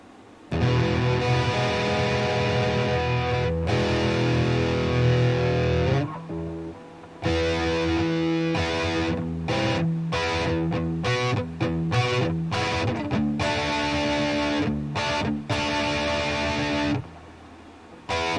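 An electric guitar played through the Nuclear amp preset in Guitarix sounds dense and heavily distorted, sustained chords and then choppy bursts of strummed notes with brief gaps, loud and alone with no talking.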